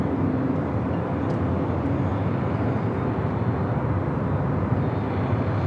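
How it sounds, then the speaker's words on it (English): A heavy Air Tahiti Nui Boeing 787-9 Dreamliner arriving at LAX from Paris, its jet engines a steady, loud broadband roar that holds throughout with no talk over it. "Arrival is a heavy Air Tahiti Nui Flight 7 coming in from Paris, 787-9 Dreamliner."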